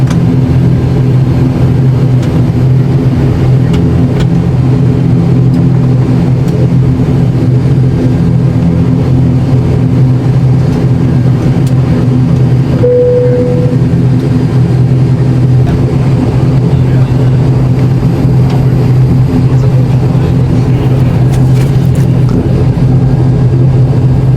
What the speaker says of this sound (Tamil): இப்போ பார்த்தீங்கன்னா ஃப்ளைட்டு கிளம்பிடுச்சு